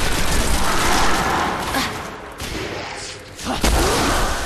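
Rapid gunfire and thumping shots sound in the Destiny video game while a teammate is revived on the Moon. The bursts come close and dense, and the level dips briefly in the middle before returning.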